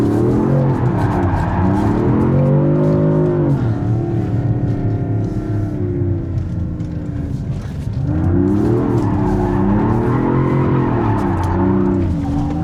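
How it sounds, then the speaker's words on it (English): A 2026 Dodge Charger Scat Pack SIXPACK drifts in rear-wheel drive mode, its engine revving loudly and rising and falling across two long slides with tire squeal underneath, heard close up. "We're gonna harm some tires."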